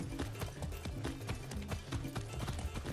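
A horse gallops in the video game Far Cry 6. Its hooves clip-clop in a quick, steady rhythm, fairly quiet and close, with no talk over them.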